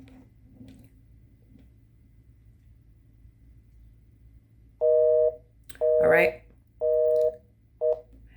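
A telephone call back plays a run of four repeated busy-signal tone bursts, steady and fairly loud, after several seconds of low line hiss and rumble, with a brief voice speaking over one burst.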